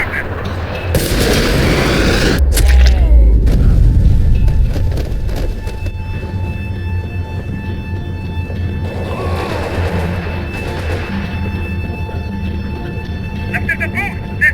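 Gunfire in the action video game Max Payne 3: a heavy burst of booming shots and crashes early on, then a sustained loud background of combat noise under talking voices.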